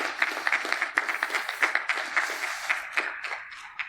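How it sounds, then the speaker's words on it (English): Audience at a cybersecurity conference talk giving a round of applause, a fairly sparse patter of individual claps in a hall, moderately loud, with claps fading slightly toward the end. "let's give a big applause to the 20 years of cybersecurity innovation and automation"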